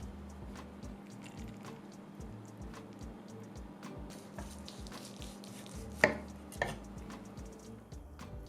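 A knife cuts through a juicy roast pork loin on a board, with a steady series of soft thuds and faint scraping taps, fairly quiet and close, plus a couple of sharper knocks.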